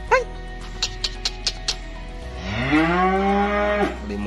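Limousin cattle at a calf dealer's yard in Kediri, East Java, give one long, loud, close moo after a series of short sharp knocks and a brief dog-like call.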